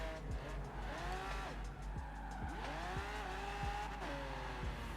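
Tires squeal in repeated drifts in Forza Horizon 4, with rising and falling screeches over a steady engine drone and a few thumps, near and loud.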